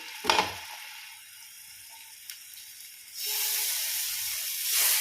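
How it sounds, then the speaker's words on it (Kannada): Sardines hit hot oil on a tawa; after a brief clatter and a quiet stretch, a bright, steady hissing sizzle rises and carries on close by. "ಅದಕ್ಕೆ ಎಣ್ಣೆ ಒಳ್ಳೆ ಬಿಸಿಯಾದ ನಂತರ ಈ ಮೀನನ್ನು ಫ್ರೈ ಆಗಲಿಕ್ಕೆ ಹಾಕಬೇಕು"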